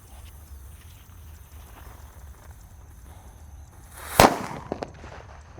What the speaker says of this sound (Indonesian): Seberapa kencang suara mercon ini guys